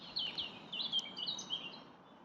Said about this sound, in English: You can just hear those birds tweeting away.